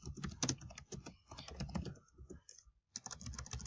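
Quick, uneven clatter of keys as a search is typed on a computer keyboard, close and clear with a brief pause near the end.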